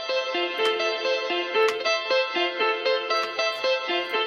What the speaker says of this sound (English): You have your reverb.